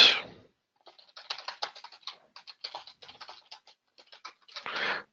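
Fingers type on a computer keyboard in quick, uneven bursts of soft key clicks, close and fairly quiet, with brief louder noises at the start and end.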